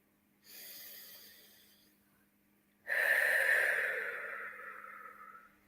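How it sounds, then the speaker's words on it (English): Two slow, deep breaths in quiet surroundings: a softer, airy inhale, a pause, then a louder, longer breath that fades out gradually, close to the microphone. "so just a nice few deep breaths"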